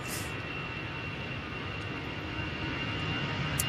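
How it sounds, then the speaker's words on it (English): An EasyJet airliner begins its takeoff roll at windy Manchester Airport, a distant broad engine roar rising slightly under steady wind noise. "EasyJet now on the roll."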